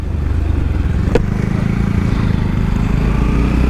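A motorcycle engine putters steadily at close range while riding slowly through a traffic jam on Kathmandu roads, a constant low drone with a brief clank partway through.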